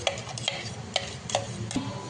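A spoon stirs grated carrot through boiling milk in a pan, giving about five evenly spaced scraping clicks against the pot, close and clear.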